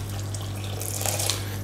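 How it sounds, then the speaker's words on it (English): Boiling water pours from a kettle into a bowl of couscous for a Moroccan dish, a steady splashing stream that runs close and unbroken throughout, over a low constant hum. "And I've got me boiling water. So just come out the kettle."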